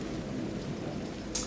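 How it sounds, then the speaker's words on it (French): Steady rain hiss in the video game Battlefield V, constant and fairly loud throughout, with a brief sharper burst near the end. "Il pleut."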